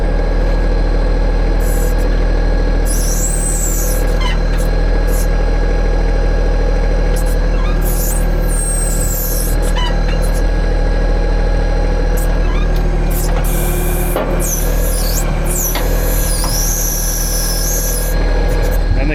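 Tractor engine running steadily while pushing over trees, a loud continuous drone with occasional high squeals and rubbing sounds over it, no speech heard.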